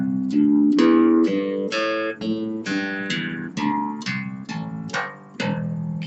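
A bass guitar plays a practice scale, sounding two separate plucked notes on each step in a steady, even rhythm, the line climbing and falling across a dozen clear, close notes with no talking.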